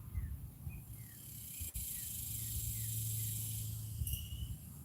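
Continuous high-pitched buzzing of mating cicadas hangs in the background, fairly faint and even, with a low hum beneath and a brief click near the middle.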